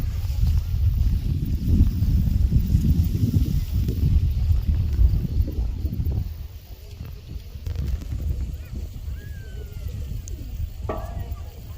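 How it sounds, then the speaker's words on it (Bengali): Wind blows at a high spot above a lake, a loud low rumble buffeting the microphone that eases midway and then continues, with a voice heard at times. "কি সুন্দর হাওয়া।"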